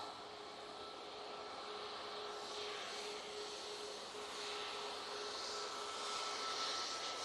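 Ryanair jet passing over Manchester Airport, a continuous distant engine roar with a faint steady whine running under it, swelling slightly toward the end.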